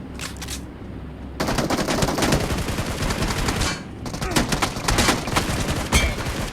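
Gunfire in the mobile game BGMI comes in rapid automatic bursts after a brief quiet pause, with dense repeated shots that stop briefly midway and then resume.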